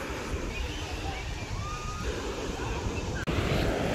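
Rough, stormy sea surf breaking at Uchkuevka beach in Sevastopol, Crimea, a continuous loud wash of waves with wind buffeting the microphone and a brief bump near the end.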